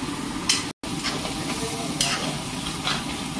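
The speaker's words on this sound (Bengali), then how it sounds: "ভালো করে এটাকে ফ্রাই করে নিয়ে কষাই নিয়ে" Spices frying in a pan for Kerala sambar, a steady close sizzle with a few scraping stir strokes throughout and a brief dropout near the start.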